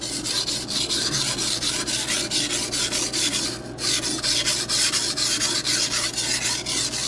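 A Rada cutlery knife is stroked across a King waterstone, making a steady rhythmic rasping scrape, several strokes per second with a brief pause midway. The sound is close and continuous, with no talking.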